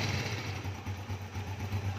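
A motorcycle engine idles steadily with a low, even rumble and faint mechanical hum, close up and without any talking.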